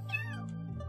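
A cat meows in the Minecraft video game, a single clear drawn-out mew heard up close, with a low steady hum underneath.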